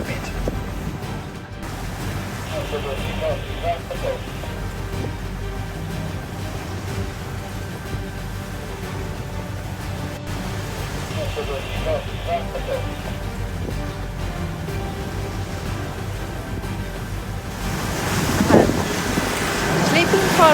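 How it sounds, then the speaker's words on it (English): Sea water washes across a sailboat deck and into the cockpit in rough, windy conditions, a steady broadband rush of water and wind noise throughout, swelling louder near the end. "we have quite a lot of water on deck, and actually it's flowing all the way into the cockpit."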